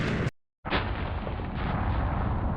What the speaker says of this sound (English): let's go ahead and light up a bomb here